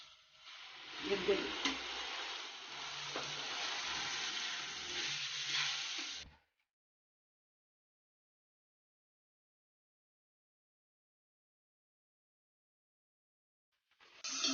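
Chopped onions sautéing in a home kitchen pan as tomato juice goes in, a bright sizzling hiss with faint stirring scrapes for about six seconds, then sudden silence before the sizzle returns at the very end.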